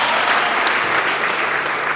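An audience at a memorial gathering applauds with dense, steady clapping that stays level throughout, with no voices standing out.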